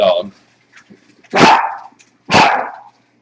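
A dog barks twice, loud and close, with a short pause between the two barks and a brief voice fragment just before them.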